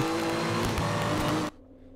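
Renault Sport RS01 race cars racing at Jerez in the 2015 Renault Sport Trophy, a loud engine roar with tyre noise that cuts abruptly to a distant hum after a second and a half.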